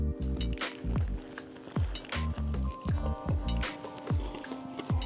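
Biting into a homemade copycat spicy fried chicken sandwich, close and wet: repeated squishy crunching chews in a steady rhythm, with small clicks and smacks between bites and no talking.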